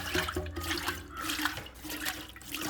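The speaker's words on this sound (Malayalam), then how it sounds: "പാലിന് അര വെള്ളം ഒഴിക്കട്ടെ." Water pours steadily into a vessel of thick Amul Gold milk nearby, a continuous gurgling splash lasting a few seconds.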